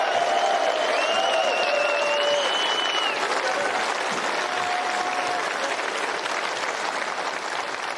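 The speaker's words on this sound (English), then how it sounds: "may we have another round of applause for two of our sport's all-time greats" A snooker arena crowd applauds the two finalists of a Tour Championship final, a loud, steady, full-bodied wash of clapping that continues throughout, with a faint tonal whistle drifting over it early on.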